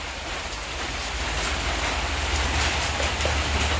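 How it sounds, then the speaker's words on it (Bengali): Heavy morning rain after a night-long downpour makes a steady, dense hiss that holds at an even, fairly loud level throughout, with no voices. "সেই রাত থেকে বৃষ্টি হচ্ছে প্রচণ্ড বৃষ্টি ছিল রাত্রিবেলা এখন তবু একটু কম"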